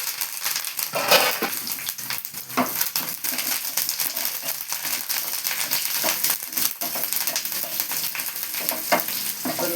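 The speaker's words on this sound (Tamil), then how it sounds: "நல்லா பொன்னிறமாக வதக்கணும்" Sambar onions (shallots) sautéing in a pan for vegetable kurma, a continuous close sizzle with repeated crackling and spoon scrapes and taps as they are stirred.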